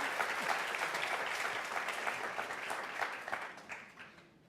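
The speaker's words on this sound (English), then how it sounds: "Please join me one last time in a round of applause for them" An audience at a talk on Washington's Civil War forts and parks gives the speakers a round of applause, full and close at first, then thinning into scattered claps as it fades out.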